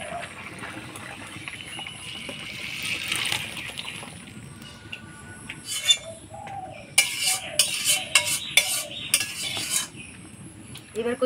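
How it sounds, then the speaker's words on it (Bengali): A pumpkin and prawn curry being stirred with fried cumin paste, a ladle scraping and clattering against the pot in bursts, with birds chirping faintly in the background. "এবার ভাজা জিরা বাটা দিয়ে নাড়াচাড়া করে নামাই দেব"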